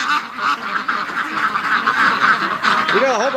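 Two Canada geese flying past a lake give rough, repeated honking calls, moderately close, with a person talking over them; one more distinct honk near the end.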